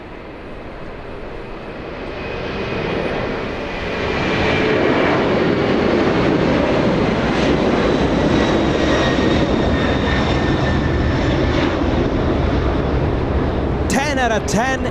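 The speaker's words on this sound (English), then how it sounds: "10 out of 10 for that 747 departure" A Boeing 747 departs Los Angeles International Airport, its jet engines building into a loud, sustained roar that swells after a few seconds and holds steady to the end.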